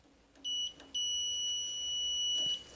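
Multimeter continuity beeps while testing the upper screws of a water heater thermostat: a short high electronic beep, then a longer steady one lasting over a second and a half, clear and close with no talk.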